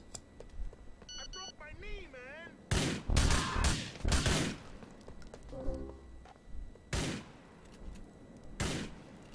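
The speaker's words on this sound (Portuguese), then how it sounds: "Tem alguém me atirando, peraí, onde tá me atirando?" Bursts of video game gunfire crack out in several loud volleys in GTA IV, interleaved with electronic tones and someone talking.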